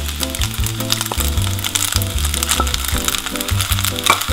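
Shrimp dropped into a hot pan with soy sauce and udon noodles crackle and sizzle loudly and close, a dense frying hiss with sharp pops, over background music.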